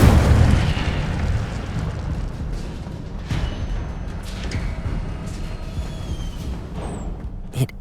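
The Incendio fire spell bursts loudly in Hogwarts Legacy, a booming flare that dies away into a rumbling crackle, with smaller sharp pops following.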